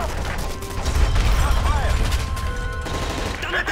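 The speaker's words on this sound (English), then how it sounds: "That's gunfire!" Rapid bursts of gunfire crackle continuously in a busy Call of Duty: Modern Warfare 3 scene, with voices and mechanical clatter mixed underneath.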